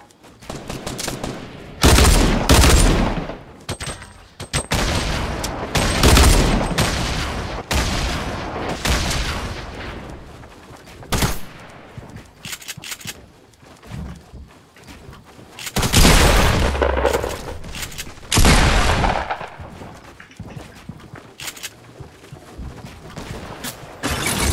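Double pistols fire in Fortnite gameplay, bursts of loud close shots alternating with brief lulls across the stretch, some rapid volleys running together.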